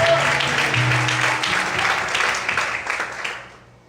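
Church congregation clapping during an evening service, a sustained wash of applause that thins and fades out toward the end, with a low hum and scattered voices beneath it.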